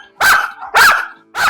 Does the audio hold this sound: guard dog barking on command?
yes